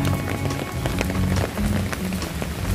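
Very heavy rain drums steadily and densely on a surface, a loud continuous wash with no voices and no letup.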